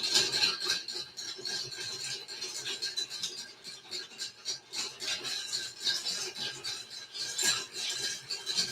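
A spoon scrapes and stirs food in a metal pot, giving a steady run of close, gritty rubbing and clinking strokes with no talk.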